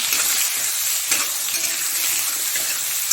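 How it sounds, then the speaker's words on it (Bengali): Chopped onions and potatoes fry in a hot pan, giving a loud, continuous sizzle with occasional clinks of a utensil against the metal, no talking. "এবার পেঁয়াজগুলো দিয়ে দেবো। এবার একটু ভালো করে ভেজে নেব।"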